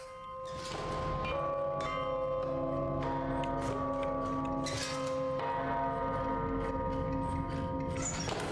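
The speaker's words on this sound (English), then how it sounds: "So many bells." Bells ring out in the game DARQ, loud and sustained, with layered tolling tones overlapping and ringing on continuously without a break.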